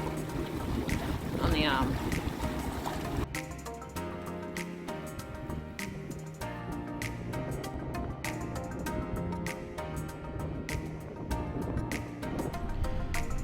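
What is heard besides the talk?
water slapping against boat hull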